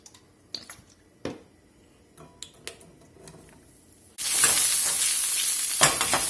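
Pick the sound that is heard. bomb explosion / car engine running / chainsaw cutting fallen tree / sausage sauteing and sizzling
sausage sauteing and sizzling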